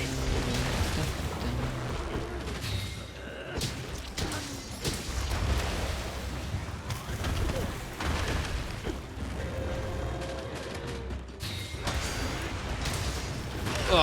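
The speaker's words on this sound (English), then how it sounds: "we gotta be careful of those explosions," Basilgeuse explosions in the game Monster Hunter Rise: repeated heavy booms and crashes in a dense, loud battle mix, with several strong blasts over steady game noise.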